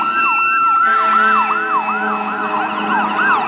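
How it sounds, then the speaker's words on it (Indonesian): A toy fire truck's electronic siren wails in a steady rising-and-falling pattern, loud and close, with a tinny tone and no talking. "Di sini ada mobil pemadam kebakaran teman-teman"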